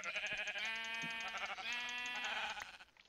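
A sheep in Minecraft lets out a drawn-out, wavering bleat that lasts several seconds, close and clear against a quiet background, and no one speaks over it.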